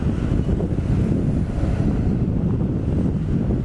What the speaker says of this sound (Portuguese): Está ventando muito.